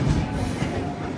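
A train rumbles at Jaipur Junction in a brief, steady, close burst of rail noise.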